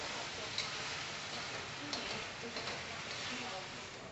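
Chili and ginger fry in a pan for ginger chicken, making a dense, steady sizzle close by, with a few faint clicks of a utensil scattered through it.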